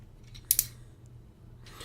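Ratcheting knee joint of a Transformers Prime Beast Hunters Voyager Shockwave figure clicking: two sharp close clicks in quick succession, then a fainter scrape-like click moments later, over a quiet room.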